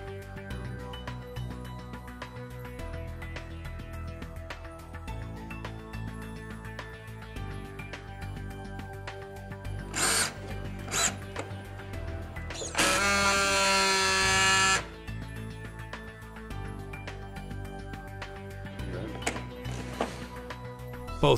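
Polychem B600 battery strapper running through tensioning, sealing and cutting of a strap: short motor whirs and clicks, then a harsh two-second buzzing burst at sealing, over a steady background hum.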